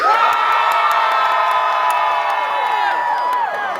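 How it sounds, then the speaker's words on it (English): A large crowd at a Knott's Scary Farm Halloween event erupts in loud, sustained screaming and cheering, a dense wall of shrieks and whoops from many voices that holds steady for several seconds before easing slightly. "we want blood-curdling screams"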